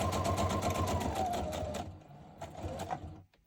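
A pedal-operated sewing machine stitches in a fast, steady mechanical chatter for about two seconds, then slows and stops with a few brief bursts and clicks, close and clear.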